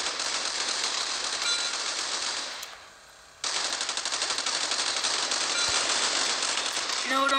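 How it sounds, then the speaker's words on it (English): Rapid automatic gunfire in a video game rattles in long bursts, breaking off briefly for a short pause and then resuming just as densely, fairly quiet overall. "Gunshots."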